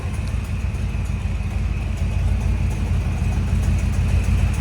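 A car engine idles steadily up close after an exhaust header repair, a continuous low rumble with a faint ticking overlay and no voices.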